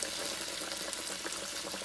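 Beef broth poured over a pot roast in a very hot pan, giving a steady, close hiss of liquid striking hot metal that stays even and unbroken throughout, with no voices.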